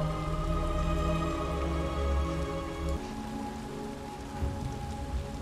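Steady rain in the video game Detroit: Become Human hisses without a break, with a low tonal hum underneath and no talking.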